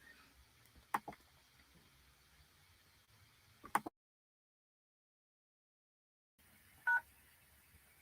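Telephone keypad tones sound close and clear, as a few short separate beeps with pauses and a stretch of silence between them, over faint line hiss.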